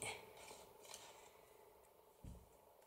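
Scissors cut paper along a marked line, giving faint, soft snips and a light scraping rustle in a quiet room. There is no talking.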